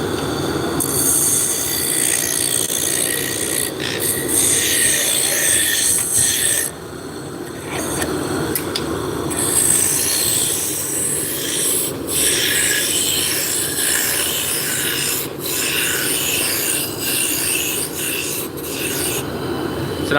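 Wood spinning on a lathe and cut with a spindle gouge gives a steady, loud rasping scrape that runs for the whole stretch, with brief dips in level and no one speaking.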